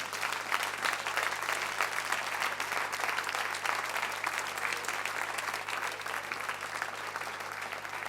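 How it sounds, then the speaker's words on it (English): A church congregation claps in praise with continuous, dense clapping that holds at an even level throughout and sounds somewhat distant and soft. "Give the Lord a clap of praise."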